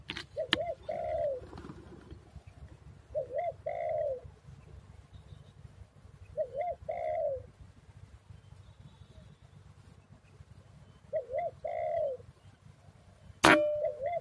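A dove calls outdoors with soft cooing phrases repeated about every three seconds, moderately near over quiet background noise, ending with a sharp clang.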